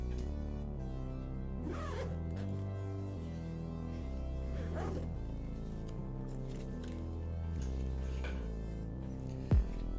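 YKK AquaGuard water-resistant zippers are pulled open on a Wandrd Prvke 21L V3 photography backpack: several long, rasping zip strokes close to the microphone, followed by a brief sharp knock near the end.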